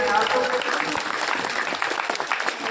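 An audience claps steadily throughout at a Bhagavat katha, a dense sustained round of applause close by with some voices mixed in.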